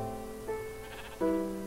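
Golden sheep in Minecraft bleating twice, two short wavering bleats close up and alone, the second louder than the first.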